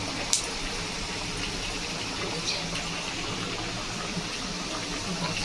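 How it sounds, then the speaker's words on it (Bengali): Steady sizzling hiss of food deep frying in hot oil, continuous and fairly faint, with a few small pops. "এই যে ডোবা তেলে ভাজতে হবে, এই যে ভাজা হবে।"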